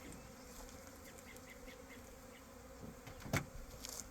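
Honey bees buzzing around a homestead beehive outdoors, a faint steady drone with occasional louder passes as single bees fly close by.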